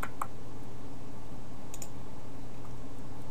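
A computer mouse clicking a few times, one sharp click near the start and a quick double click later, faint against a steady background hum, with no speech.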